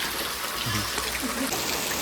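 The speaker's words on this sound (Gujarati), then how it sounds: "મુસળધાર વરસાદ પડે" Rushing water flows steadily during a heavy downpour, forming a continuous broadband wash without clear pauses.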